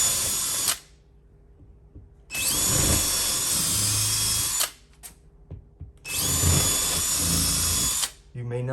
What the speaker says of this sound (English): for this, we're going to be using a 1/2 inch drill. So I go ahead and I line up my drill.